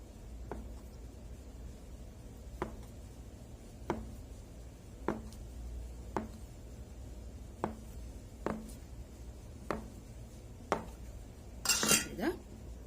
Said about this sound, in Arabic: نجيب بقى القطاعة